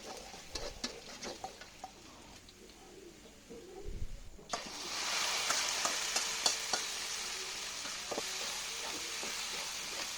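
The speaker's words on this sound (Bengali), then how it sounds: "ডুমুরটা সিদ্ধ হয়ে গেছে, এখন ওটা আমি তেলে ফেলে দেব।" Boiled figs dropped into hot oil with chopped onion, garlic and chili, a loud steady sizzle bursting in midway and continuing under light stirring clinks, after quieter kitchen sounds.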